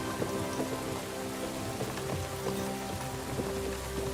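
Rain falling steadily in Kingdom Come Deliverance 2 while a horse-drawn ride moves along, a continuous patter with faint hoof-like thuds beneath.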